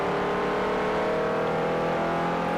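A Ford RS Cosworth engine in Forza 4, droning loud and steady at sustained revs under load, with no talk.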